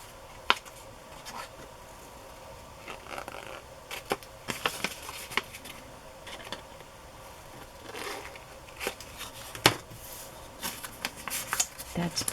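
Scissors snip the corners off paper ephemera in a craft session, giving several short, crisp cutting and rustling sounds scattered among quiet gaps, close and fairly soft.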